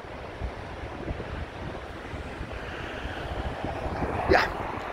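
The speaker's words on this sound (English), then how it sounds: "Windy, there's a nip on that wind." Wind gusts across the microphone by the sea on Blackpool's North Promenade, a steady rushing blow over a low surf roar that swells slightly toward the end.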